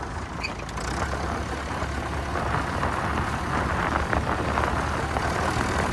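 A 60-year-old tractor ploughing a field, its engine giving a continuous rough low drone with a steady mechanical rumble and no voices, heard close and fairly even throughout.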